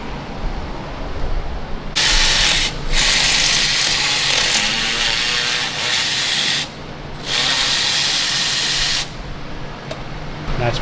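Pneumatic impact tool on stock exhaust manifolds of a Camaro SS being swapped for Kook's headers, bursts of loud rattling hiss in two long runs with a short break, close by over shop noise.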